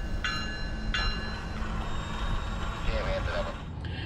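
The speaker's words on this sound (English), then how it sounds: "It's always nice catching a train backing into Winston." A train backs slowly into Winston, Florida, with a repeating reversing beep sounding twice early on over steady low rumble and wheel noise, heard from close by.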